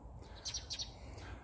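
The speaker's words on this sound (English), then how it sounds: "But why are they chirping?" Small birds chirp outdoors in a few quick, faint high tweets clustered in the middle, distant and soft over low background noise.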